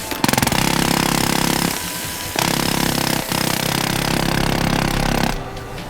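Loud, continuous mechanical hammering from heavy machinery, a fast pounding rattle that cuts out briefly twice before resuming, close and dominant.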